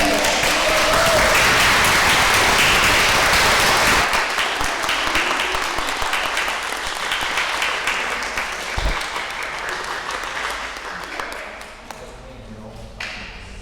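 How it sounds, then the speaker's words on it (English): Audience applause at the close of a school mock trial, with dense, loud clapping in the first few seconds that thins out and fades while scattered claps and a few voices carry on. "can we just clap for the jurors?"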